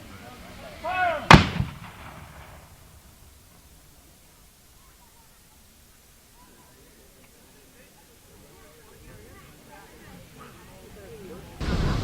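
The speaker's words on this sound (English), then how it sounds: "one more blast from the howitzer" A howitzer cannon fires once at a Civil War reenactment, a single sharp, loud blast near the start that trails into a fading rumble, with people talking quietly afterward.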